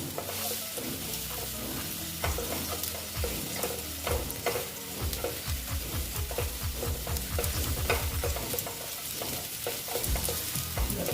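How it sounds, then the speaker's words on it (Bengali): Katla fish curry masala is sautéed in a pan, with a soft continuous sizzle under many quick, rhythmic scrapes and knocks of a spatula stirring close by. "বন্ধুরা এটাকে আমি ভালো মতন কষিয়ে নিচ্ছি"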